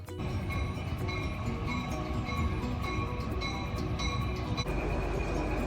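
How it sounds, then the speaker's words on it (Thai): A train in Yosemite National Park rumbling steadily along with rhythmic wheel clatter and a faint metallic ringing, heard at moderate distance without voices. "นี่เดี๋ยวเราจะขึ้นรถไฟอันนี้รอบบ่ายสาม"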